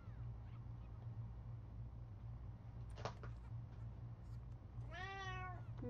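A single Sims 3 cat meows once near the end, a short clear rising-falling call over a steady low hum, with a faint tap a few seconds before.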